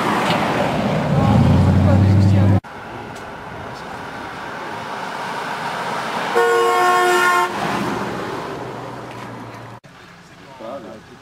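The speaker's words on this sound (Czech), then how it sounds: "Láďo, ty máš klakson tam, jo?" A car horn toots in a long steady honk during a WRAAM car meeting, with engine and traffic noise around and people talking nearby.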